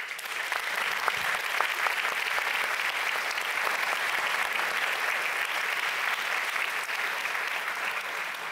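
Sustained audience applause at a German education conference as a speaker is welcomed onto the stage, a dense, even wash of many hands clapping that holds steady throughout.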